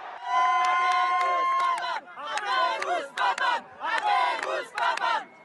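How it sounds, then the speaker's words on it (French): A jubilant crowd in St. Peter's Square roars and cheers loudly as white smoke rises, a dense sustained swell of many voices with whistles and shouts rising and falling in waves. "une foule en liesse place Saint-Pierre"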